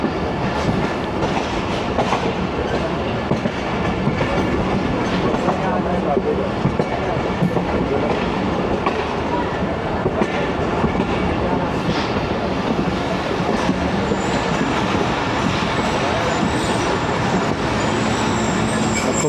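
The Awam Express passenger train rolls slowly along a loop line into a station, a continuous close rumble of wheels and carriages with faint clatter, steady throughout and without talk.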